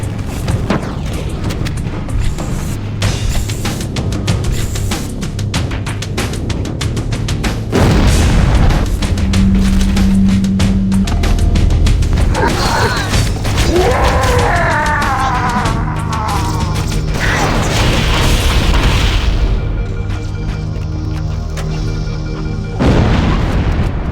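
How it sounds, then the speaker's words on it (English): Reactor engines in the video game Halo CE blow up in heavy, sustained booms and blasts that rumble continuously, loud and dense throughout. "That should be enough to trigger a wildcat explosion of the engines."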